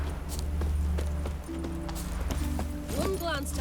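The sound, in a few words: horse Roach galloping, from a video game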